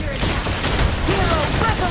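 Gunfire and explosions from the Mobile Legends: Bang Bang mobile game, playing the hero Yi Sun-shin, a dense rumbling fusillade of blasts and shots with game effects, loud and continuous, with someone talking over it.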